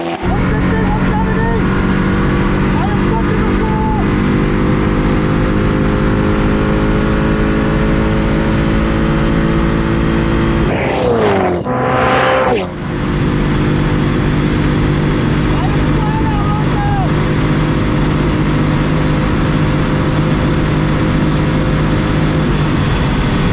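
A Koenigsegg Agera run at top speed, about 200 mph, makes a loud, constant engine drone and roar with heavy road and wind noise. There is a brief sweeping dip partway through.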